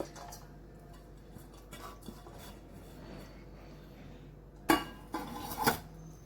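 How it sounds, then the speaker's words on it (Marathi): A sabudana and potato mixture being transferred into a larger bowl and mixed, with soft scraping and light taps at first, then a few loud close clanks of a utensil against the bowl. "जरा मोठ्या ह्याच्यामध्ये काढून मी छान मिक्स करून घेतेय"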